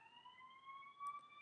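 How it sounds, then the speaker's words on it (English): A siren wails faintly in the distance, its tones slowly rising as it passes, with no talking. "And I apologize for the sirens going past."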